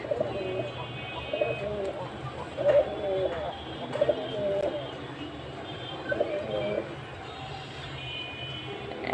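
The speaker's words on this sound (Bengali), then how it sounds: "এই কবুতর জোড়া নতুন এনেছে" A newly brought pair of pigeons cooing at home, soft throaty coos repeating in short phrases at close range over a busy background hum.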